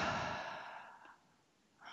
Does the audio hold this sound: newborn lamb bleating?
no